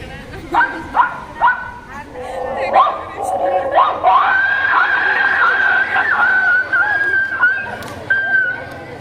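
A mimic's voice imitates dogs fighting, with repeated barks and yelps that build into a sustained, rising snarling whine, loud and close, with crowd noise faintly in the background.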